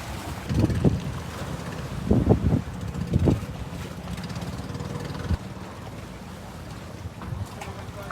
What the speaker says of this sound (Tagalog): Dami na ng bangka dito.